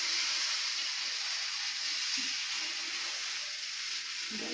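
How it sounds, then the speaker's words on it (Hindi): Besan chilla batter spread across a hot tawa, producing a soft, even, steady sizzle with a gentle hiss throughout, close but quiet. "फिर उसके बाद हम इसको डालेंगे और इसको हल्के हाथों से तवे पे फैलाएंगे।"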